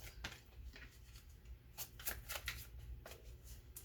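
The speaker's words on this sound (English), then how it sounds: "Let's shuffle it one more time." A deck of tarot cards is shuffled close by, giving a series of soft, crisp riffling bursts spaced unevenly over a few seconds. It is faint and quiet throughout, with no talking.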